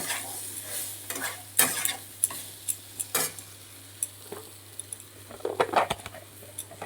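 Fried soybeans and mixed vegetables stirred together in a pan, with a soft sizzle under repeated close clacks and scrapes of a spatula that grow quicker and denser toward the end, no talking.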